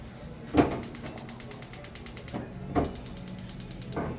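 Electric push-button igniter on a household gas stove clicking in two rapid bursts of steady, evenly spaced ticks, each burst opening with a sharper snap, fairly close and alone with no talk.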